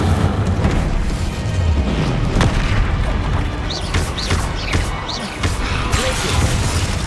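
The Incendio fire spell goes off in Hogwarts Legacy as a dense, continuous roar of booming fire and crashing impacts, loud and close, with several sharp whooshing accents in the middle of the combat.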